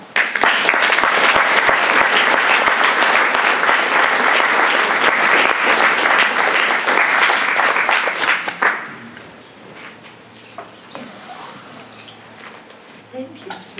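Sustained, loud applause from an audience welcoming poet Fanny Howe at a reading, filling the first eight seconds before fading to quiet room noise.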